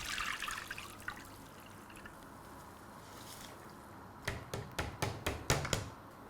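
Water drains from a pot of boiled rice cooked with turmeric, pouring and trickling at first, then easing to quiet dribbles before a run of sharp splashing drips near the end, close and fairly soft.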